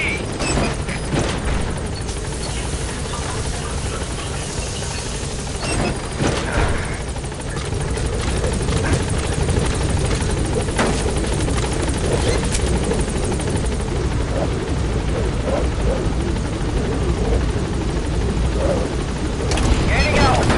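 Helicopter from the video game Metal Gear Solid V arriving at a landing zone and taking off again, a loud continuous rotor roar with thumping that holds steady throughout and swells near the end as it gains altitude; radio-style voices talk over it.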